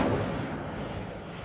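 An Incendio fire spell is cast in a Harry Potter video game, giving a dense roaring whoosh of flame that starts loud and slowly fades over a second and a half.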